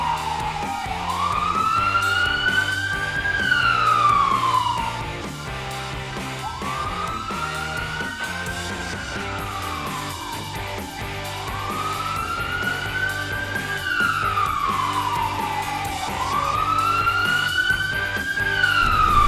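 A wailing emergency siren rises and falls in long, repeating sweeps, loud and steady throughout, with traffic rumble underneath and no talking.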